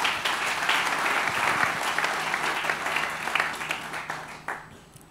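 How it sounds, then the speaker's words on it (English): A church congregation applauds, with a dense wash of many hands clapping that holds steady and then gradually tapers off near the end. "And clap for Jesus Christ."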